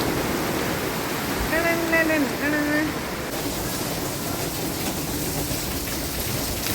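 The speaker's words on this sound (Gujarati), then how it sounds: "કેટલો બધો અવાજ છે વરસાદ અવાજ છે ને" Heavy cloudburst rain pours down in a dense, steady hiss throughout, with a brief faint tonal sound rising above it early on.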